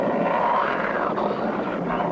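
A cartoon airplane engine drones in a crop-dusting scene, a loud, steady propeller roar with a slight pitch sweep, with no voices over it.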